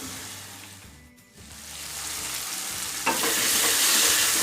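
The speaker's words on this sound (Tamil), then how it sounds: "தக்காளி பழம் நல்லா வதங்கணும்." Tomatoes sautéing in oil for Tamil tomato rice, a steady broadband sizzle with spoon scrapes and stirring, briefly dipping then swelling louder as the pan is stirred again, close and without talk.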